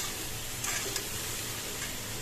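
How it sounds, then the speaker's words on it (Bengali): Boiled soybean chunks sautéed with ginger, dried chilies, bay leaf, turmeric, salt and cumin in a pan: a dense, loud, continuous sizzle with a couple of brief stirring scrapes mixed in. "এখানে এখন সয়াবিনগুলোকে কষাচ্ছি।"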